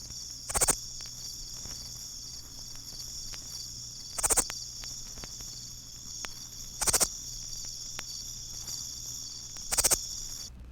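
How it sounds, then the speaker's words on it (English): Texas bush katydid, Scudderia texensis, singing its night song: four evenly spaced groups of sharp, high lisping buzzes, each about a third of a second long and roughly three seconds apart, over a steady faint hum of background insects. "Here's the night song of the Texas bush katydid, Scuderia texensis."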